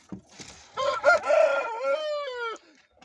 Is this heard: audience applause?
no